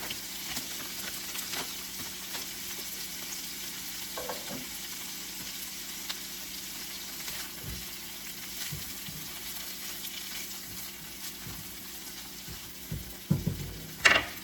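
Mushrooms and onions frying in butter in a pan, a steady close sizzle running throughout, with a few clattering stirs and utensil knocks near the end and no talk.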